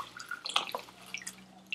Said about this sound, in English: So here's our water going into the bag.